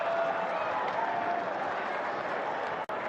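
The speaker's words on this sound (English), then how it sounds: "now he will soak in the applause" A tennis crowd applauds a Japanese player's match win with dense, steady clapping that fills the stadium for about three seconds before a brief cut near the end.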